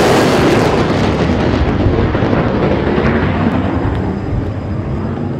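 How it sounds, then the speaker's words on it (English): A sonic boom from a plane breaking the sound barrier: a deep, heavy rumbling boom rolls on and slowly fades, loud and broad like a distant blast echoing across open sky. "When planes break the sound barrier"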